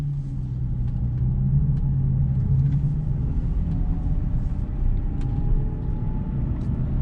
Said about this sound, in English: press the power on button, and she comes to life